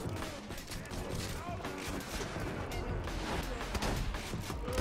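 Rapid gunfire from a turret gun in the video game Borderlands 2, a dense crackling burst that runs steadily throughout, heard beneath someone talking.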